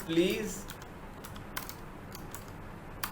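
Light, quick clicks of fingers typing on a computer keyboard during an HTML forms lesson, faint and close, with a voice briefly heard at the start.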